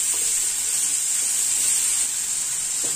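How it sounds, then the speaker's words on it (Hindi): Amla (Indian gooseberries) with a pinch of hing fry slowly in a pan over low heat, giving a steady, even sizzle and soft hiss that carries on without pause and with no voices. "यहाँ पे आंवले को भूनते हुए 5 मिनट हो गए हैं"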